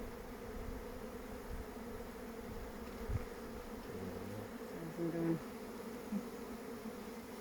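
A low, steady hum of many bees buzzing close by, continuous and fairly quiet, with a few soft knocks.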